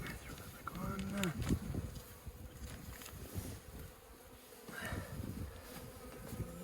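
Honey bees buzzing steadily around a hive during a late-winter top inspection, close and droning, with occasional handling noises and faint voices in the background.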